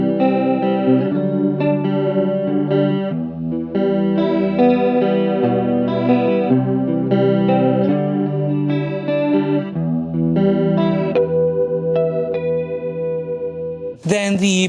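Electric guitar through a TC Electronic-style stereo chorus pedal in chorus mode, playing sustained shimmering chords and single notes that ring loud and continuous before a brief noisy burst at the end.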